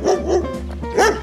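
A dog barking close by, two loud separate barks with a brief gap between them and no talking.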